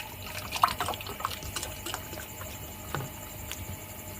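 Water poured by the glassful into a cooking pot in a home kitchen: faint, quiet splashing and trickling with a few small plops, steady and low against room noise.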